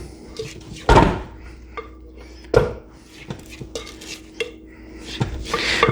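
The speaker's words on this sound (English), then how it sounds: "let's scrape the sides down" Cake batter for a Shirley Temple Cake scraped down the sides of a mixing bowl, with a few sharp clanks of a spatula against the bowl and softer scraping strokes between, no talk.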